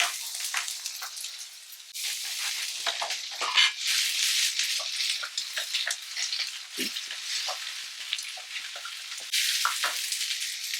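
Spinach fries in a pan on a medium-heat stove, giving a loud, constant high hiss and sizzle with bursts of crackle and occasional scraping from stirring, and no one speaking.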